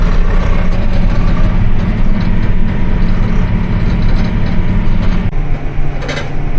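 A tractor pulling a strip-till toolbar rolls down a hard-packed turn row, a loud, close, steady diesel drone with rattling mechanical clatter and a slight dip in the engine near the end, no voices.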